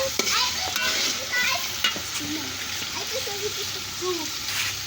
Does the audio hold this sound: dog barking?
no